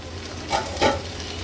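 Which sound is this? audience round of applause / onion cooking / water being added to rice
onion cooking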